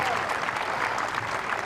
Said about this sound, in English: The applause is for the catch.